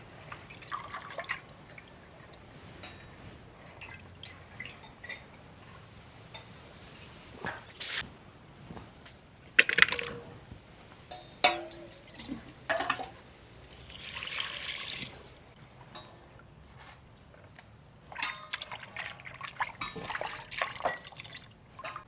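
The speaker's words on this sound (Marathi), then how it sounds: "परत स्वच्छ पाणी घेऊन परत एकदा धुवून घेणार आहोत" Chicken gets a second rinse in fresh water in a village kitchen: soft, intermittent trickles, drips and splashes with a brief pouring stretch, quiet and close.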